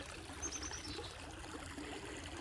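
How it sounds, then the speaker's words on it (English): A small waterfall on a flooded creek across a property pours and trickles steadily, a soft, continuous wash of water with no voices. "we have our own little waterfall"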